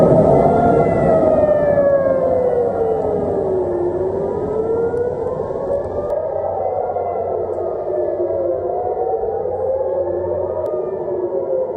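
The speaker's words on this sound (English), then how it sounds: "sirens blaring, rockets flying into the night sky over Tel Aviv" Air raid sirens over Tel Aviv wail loudly at night, their pitch rising and falling in long sweeping cycles, with overlapping sirens echoing from a distance.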